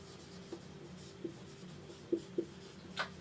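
Chalk or marker writing on a board during a Class 9 polynomials maths lesson, a few short faint taps and scratches spaced apart over a quiet background hum.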